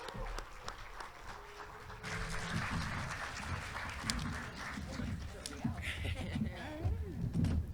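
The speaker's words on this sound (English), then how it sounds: "Big round of applause, guys." Audience applause at a horror convention panel as the Terrifier cast take the stage, steady clapping through the clip mixed with crowd noise, cheers and some voices.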